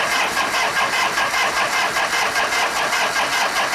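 The engine of a 1973 Harley-Davidson FX 74ci Shovelhead motorcycle cranks and catches, giving a loud, close, rhythmic pulsing chug that holds steady throughout.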